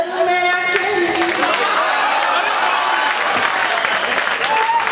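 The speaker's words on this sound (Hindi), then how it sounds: "बहुत जोरदार तालियां इन सारे कवियों के लिए" Loud applause from a poetry gathering audience at a kavi sammelan, continuous dense clapping filling the whole stretch, with a brief voice heard at the start.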